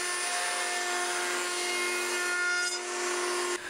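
A router trims the edges of wooden planks in a workshop, giving a loud, steady high-pitched whine that holds unbroken for several seconds before cutting off near the end.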